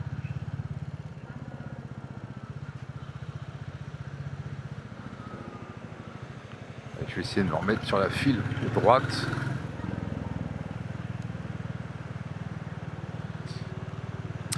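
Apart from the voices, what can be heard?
Royal Enfield Bullet 350 motorcycle riding in traffic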